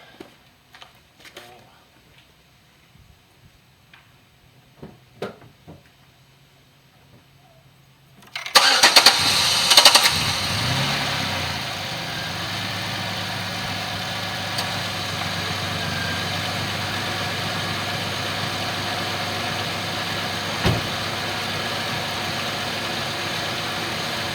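A Pontiac G6 with 181,000 miles cranks and catches after a stretch of faint clicks and handling noises, then settles into a steady, close idle that runs on to the end.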